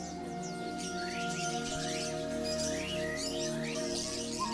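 Caged songbirds sing at a Hong Kong bird market, fairly faint rapid chirps and sweeping whistles repeating over a steady tonal background, with no talk.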